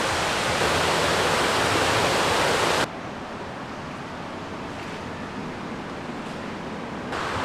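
Chet Sao Noi waterfall in Saraburi, Thailand roars loudly and continuously, then drops to a softer but still constant splashing rush partway through.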